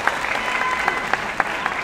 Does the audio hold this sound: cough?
no